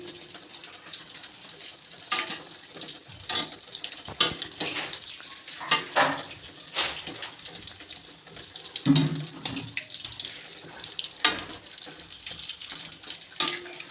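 Wheat suzhiyam dumplings fry in hot oil with a continuous crackling sizzle. They are turned over, and sharp spatula scrapes and clinks against the pan break in at irregular moments.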